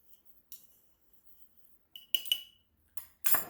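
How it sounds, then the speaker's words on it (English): Poultry seasoning is stirred in a glass jar with the back end of a measuring spoon: quiet, scattered clinks and scrapes, with a few sharper taps toward the end. "I'm just mixing this up with the back end of a measuring spoon"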